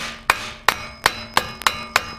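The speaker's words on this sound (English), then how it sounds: "you can hit it with a hammer" Six sharp metallic hammer strikes on a Toyota Camry axle shaft ring out at a steady pace, each with a brief bright ring, close and loud with no talking.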